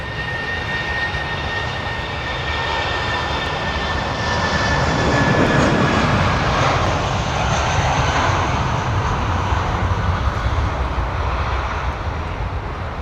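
Jet airliners, an Airbus A340-600 and an A380, roar through a late go-around, a loud sustained broadband engine rumble that swells in the middle and holds steady to the end, with no talk.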